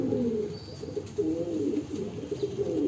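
Fancy pigeons, including Jumbo Indian fantails, coo repeatedly in a loft with low, throaty, overlapping calls, close and fairly loud.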